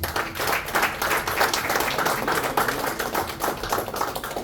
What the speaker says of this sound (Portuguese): a igreja aplauda Jesus